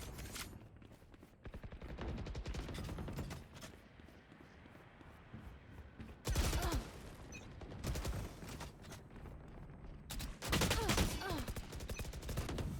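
Rapid bursts of gunfire from the player's weapon in a shooting game crackle in dense volleys, pausing briefly between rounds, loud and close, with faint mechanical clatter in the gaps.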